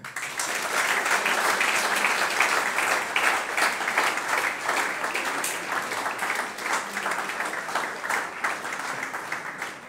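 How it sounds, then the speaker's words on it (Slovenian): An audience at a school awards ceremony in Ravne na Koroškem, Slovenia, applauds in a steady, dense wash of many hands clapping together that keeps on without a break. "In še 37-tič boste zaploskali"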